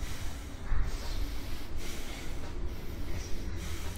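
Heavy, rhythmic breathing during a virtual-reality escape-room game, with a steady breathy rush and a few sharp snort-like inhales, close and continuous throughout.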